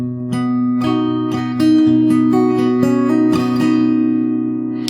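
Acoustic guitar plays one bar of a song, a sequence of clear strummed and picked chords with ringing sustain, close and alone with no talking.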